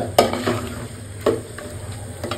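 Meat cooking in a pan as potatoes are added, giving a few scraping stirs and clinks against the pan over a low, steady sizzle, with no talking.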